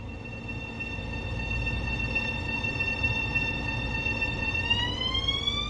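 An M7 electric multiple unit commuter train on the Long Island Rail Road in Train Sim World 2 hums steadily, with high electric motor whines that climb in pitch near the end over a low rolling rumble.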